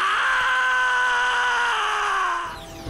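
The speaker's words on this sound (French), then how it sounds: "si tu me touches encore, je hurle très fort" A loud, sustained high-pitched scream holding for over two seconds before breaking off, in a comic puppet-show parody setting.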